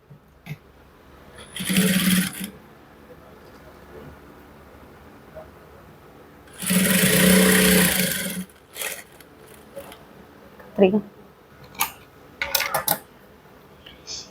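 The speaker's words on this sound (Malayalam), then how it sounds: "മൂന്ന് വശം നമ്മൾ മടക്കി അടിക്കുകയാണ്" Sewing machine stitching a folded fabric edge, heard as two loud bursts of rapid stitching separated by quiet, followed by several short clicks and handling noises.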